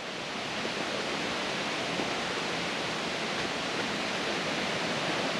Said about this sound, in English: And there's the waterfall.